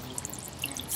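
Water trickles quietly and continuously in a garden water feature, a heavy art piece set on a fiberglass shower tray that circulates water from a buried 55 gallon drum; the sound is faint and even, with no talk.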